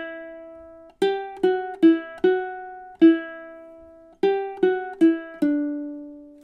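Ukulele picking the first two measures of a fast melody, a string of clean plucked notes in bursts with sharp attacks and ringing decay, close and alone.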